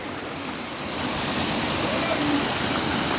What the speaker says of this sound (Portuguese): E a água vai escorrendo aqui, ó. Vai correndo.